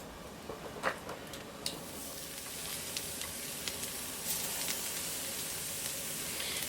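Strips of moose meat sizzle on the grill of an oak-pellet smoker, a steady close hiss with small pops and crackles scattered throughout, and no voices.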